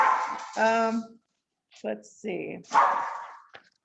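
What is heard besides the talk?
dogs barking while playing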